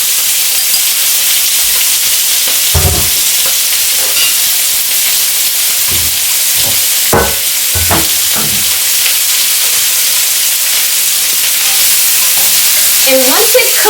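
Food frying in hot oil in a pan and cooking down: a steady, close hiss of sizzling with scattered soft thumps and scrapes from stirring, and no talking.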